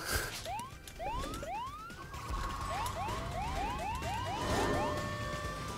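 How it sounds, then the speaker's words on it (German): A toy car's siren whoops in the Toybox Turbos racing game, with rising chirps repeating rapidly in two bursts over ongoing game sounds. "Wenn man die Sirene macht, ist man schneller."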